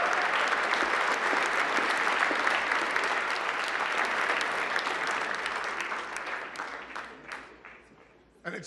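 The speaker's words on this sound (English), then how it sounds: "Tyler, let's give him another huge round of applause." Sustained applause from a dinner audience at the 2026 White House Correspondents' Dinner, loud and dense at first, then thinning into scattered claps as it fades, with a brief burst of sound right at the end.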